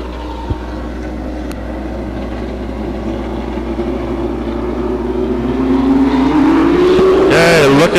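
Race cars at Stockton 99 Speedway roll into the start of a ten-lap heat race, a steady engine roar building and swelling louder near the end under an announcer's continuous commentary.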